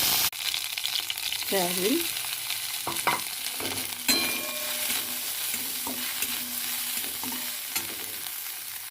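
Lentil dumplings (bori) and nigella seeds fry in hot oil with a loud, continuous sizzle and repeated scraping strokes of a spatula. A few soft spoken words sit briefly under the frying.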